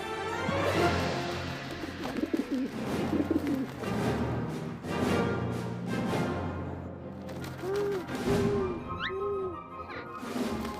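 Pigeons cooing in a Hindi cartoon about a strong horse, a few soft rounded coos near the end rising out of busy background music and clattering effects.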